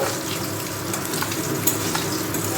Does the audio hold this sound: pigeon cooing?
no